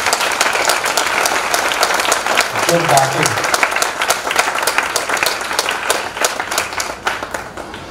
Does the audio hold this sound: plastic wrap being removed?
no